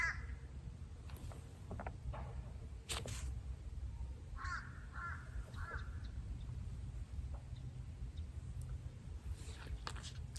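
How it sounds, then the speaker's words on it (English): A crow calls with several short, harsh caws spread across the clip, fairly faint over a steady low outdoor rumble. "Clearly a crow call"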